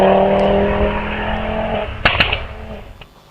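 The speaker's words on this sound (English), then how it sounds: "That sound was Tommy Rapson in the Audi TT 4-wheel drive." A four-wheel-drive Audi TT race car roars past at speed at a hillclimb and fades away, followed by a couple of sharp bangs and a brief tyre screech.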